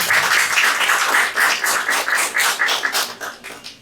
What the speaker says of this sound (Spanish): para el que también pido un fuerte aplauso, por favor